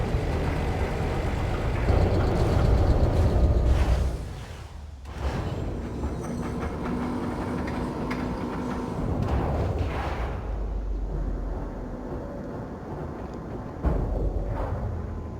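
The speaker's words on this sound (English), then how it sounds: "So the dock will actually open." Space station docking bay opening for a ship launch in Elite Dangerous, deep mechanical rumbles and heavy booming shifts with a loud surge early on and a later thud, no talking.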